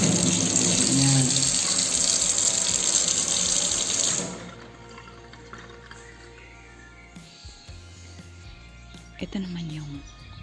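Water runs loudly from a sink tap for about four seconds, then shuts off, leaving a quiet room with faint movement and a voice.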